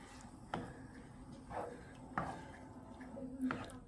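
Chicken spaghetti sauce being stirred in a pot: a few soft, irregular knocks and scrapes of a utensil against the cookware, quiet and close, with a faint steady hum behind them.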